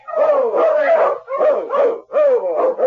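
A sled dog team yelps and howls in a loud, close chorus of overlapping barks and wails, rising and falling in three bursts as a radio-drama effect.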